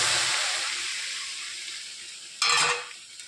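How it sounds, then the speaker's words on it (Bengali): A fish head fries with onion, ginger and garlic in a hot pan, giving a steady close sizzling hiss, then a louder burst of scraping and sizzle as the mixture is stirred near the end. "এর মধ্যে মাছের মাথাটাকে দিয়ে দিলাম, দিয়ে নেড়ে ভাজা ভাজা করা হয়ে গিয়েছে"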